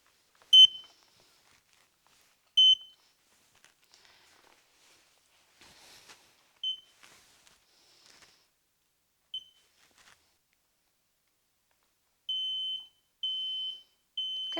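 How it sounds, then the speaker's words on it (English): A smoke detector muffled under a towel gives short sharp high beeps, scattered singly at first with long quiet gaps, then a run of three longer beeps near the end, with faint shuffling between them. "I've got the smoke detector under this towel. I'm going to press it"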